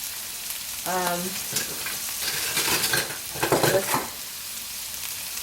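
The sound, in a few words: sliced mushrooms frying in a pan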